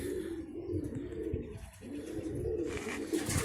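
Pet pigeons coo continuously at close range in a low, throaty rolling rhythm, with a brief lighter rustle or chirp toward the end.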